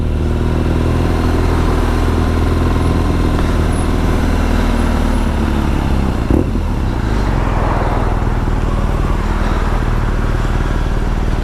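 A 2020 BMW R nineT Scrambler motorcycle rumbles steadily and loudly on the road for the whole stretch, its deep engine drone continuous and close, with no talking.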